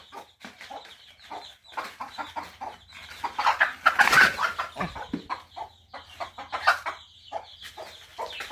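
A chicken clucks repeatedly nearby in uneven bursts, with some scattered background noise.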